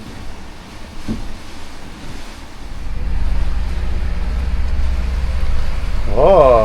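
Ocean surf rolls in as a steady broad wash with wind buffeting the microphone, swelling louder in the second half, while a voice briefly talks over it near the end.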